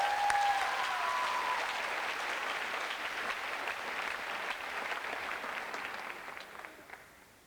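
Sustained audience applause after scores are announced at the Verselandia 2023 youth poetry slam, filling the room steadily for several seconds and slowly tapering off at the end.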